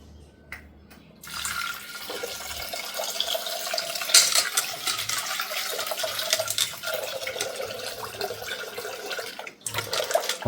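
Running water splashes and swirls steadily close by as lentils are rinsed in a bowl under a tap, with a few brief pauses.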